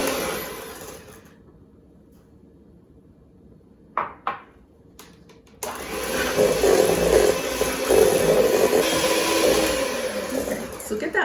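Electric mixer creaming butter and sugar, with a quiet stretch and a few knocks before the motor kicks in loud and steady for the remaining several seconds.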